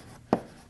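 Marker or chalk writing on a board during a lecture on advanced data structures comes through as two short, near scratching strokes, each a brief burst, with quiet room tone between them.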